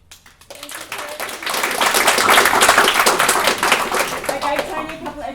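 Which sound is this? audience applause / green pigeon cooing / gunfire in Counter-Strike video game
audience applause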